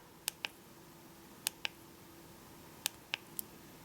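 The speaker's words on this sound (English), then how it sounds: "to cycle through, you press the paddle type switch" Paddle switch on a Klarus XT12S 1600-lumen rechargeable tactical flashlight clicked repeatedly: sharp, close, dry clicks in quick pairs, each press-and-release spaced about a second apart, over a quiet room hum with no talking.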